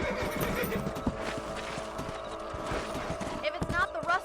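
Horses in Red Dead Redemption clopping along at pace, hooves thudding in quick uneven rhythm with a whinny near the end, close and moderately loud, under a voice talking.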